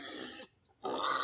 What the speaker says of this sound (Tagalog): Mo na mga baboy oh.